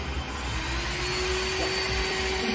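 Heat gun blowing hot air during electronics repair, a loud, steady, continuous whooshing roar with a faint tonal whine running throughout, and no talk.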